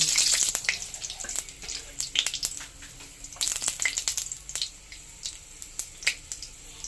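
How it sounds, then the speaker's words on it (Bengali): Panch phoron spices hit hot mustard oil in a kadai on a gas stove, giving quick sharp pops and crackles over a faint sizzle, close and busy at first, then thinning to scattered snaps. "তেল গরম হয়ে গেছে, দিয়ে দেব অল্প একটু পাঁচফোড়ন"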